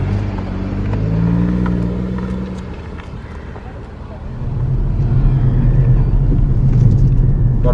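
A BMW M140i in Sport Plus mode accelerates hard down a straight at Llandow Circuit, the engine note rising in pitch and then building to a loud, sustained roar, heard from inside the car with voices in the cabin.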